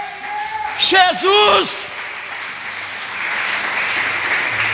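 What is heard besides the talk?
applause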